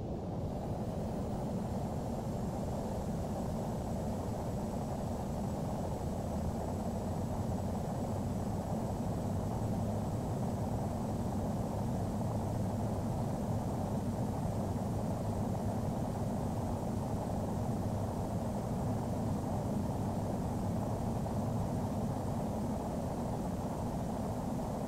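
An Airbus A321 on its takeoff roll from runway 20 in snowy weather: a steady, distant roar of jet engines with broadband rushing noise that stays even throughout and has no speech over it.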